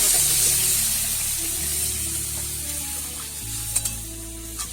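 Water poured into vegetables cooking in a hot pan for a vegetable dish, a broad hiss and bubbling simmer with a low hum underneath, steady and close, with a few faint clinks near the end.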